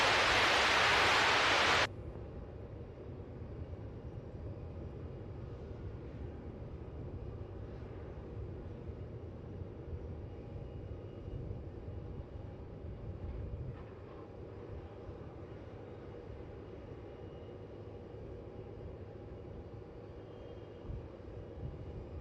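Heavy jet landing on runway 16 at Melbourne Airport: steady broadband engine roar and rushing air, distant and continuous, after a brief loud burst of noise at the start.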